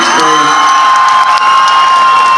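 A festival crowd cheers and applauds loudly for a singer at an outdoor family festival in Essex, with whoops and shouts over continuous clapping.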